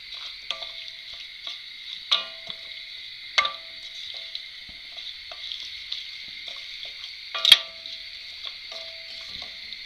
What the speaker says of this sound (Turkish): Soğanlarla beraber unumuzu karıştıralım.